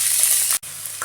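Filling for vegetarian bean puffs, with corn and red beans, stir-frying in a hot pan: a loud, dense sizzle, broken by a brief pause before it resumes.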